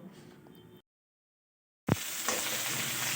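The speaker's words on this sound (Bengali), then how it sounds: "এবার আমি মাছগুলো ভেজে নেব হালকা করে ভাজবো তাই আমি লবণ আর হলুদ দিয়ে মাছটাকে ভেজে নিচ্ছি" Shing fish, lightly coated with salt and turmeric, hits hot oil: a quiet start, a sudden dropout, then a sharp spatter that settles into a loud, steady sizzle close to the pan.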